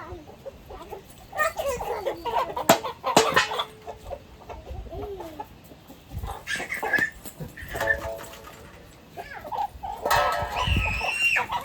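Chickens cluck and a rooster calls in front of a house at Bonacaud, a hill spot, with repeated bursts of clucking and squawks near and moderately loud, a dog faintly in the mix.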